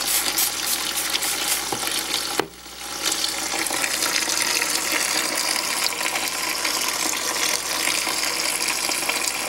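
A kitchen tap runs steadily while strawberries are washed under it, giving a loud continuous gush of water with a brief dip partway through where the flow is disturbed, and no talking.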